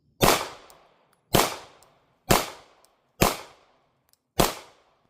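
Five sharp rifle shots ring out one by one at roughly one-second intervals during an outdoor field test of a Gideon Optics ROCK red dot sight, each crack loud and close with a short decaying tail and no talking.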